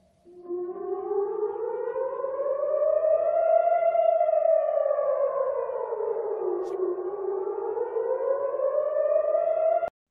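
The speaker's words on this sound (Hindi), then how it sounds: "रॉकेट या बम गिरने के खतरे की चेतावनी देने वाले सायरन की आवाज बहुत ही विशिष्ट होती है।" A civil defense siren warning of incoming rockets or bombs wails steadily, its pitch rising slowly, sinking, then climbing again in one long, loud, unbroken tone of about ten seconds.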